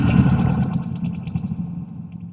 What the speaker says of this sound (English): that our reverb has returned.